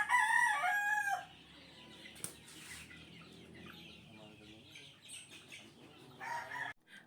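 A rooster crows loudly at the start, followed by quieter clucking and chicken noises from hens and chicks, with a brief flutter of wings.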